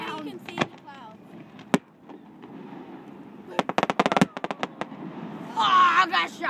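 Fireworks at a Christmas festival in Lake Arthur, Louisiana: scattered sharp bangs, then a rapid crackling cluster of pops, followed by a fizzing burst, with people talking nearby.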